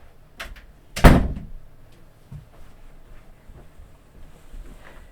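A door shutting in a house, a single solid thunk heard close by after a faint earlier knock, followed by quiet room sounds and small scattered noises.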